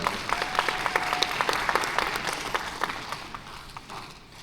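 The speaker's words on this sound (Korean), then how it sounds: "여러분 따뜻한 박수로 봐주실까요?" Audience applause in a conference hall welcoming the next presenter at a talent achievement-sharing session, steady clapping from a crowd that gradually thins and fades toward the end.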